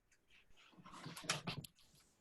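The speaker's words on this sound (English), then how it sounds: "Good dog." A dog makes short whining, yipping vocalizations, a cluster of quick soft cries rising and falling near the microphone, fairly quiet, with no talk.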